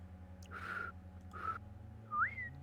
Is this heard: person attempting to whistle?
yes